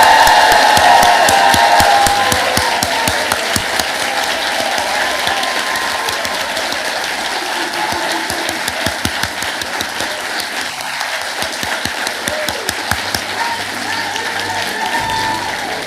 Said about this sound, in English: join me one last time in your most enthusiastic applause you've ever done in your entire life in congratulating our 2023 graduating class!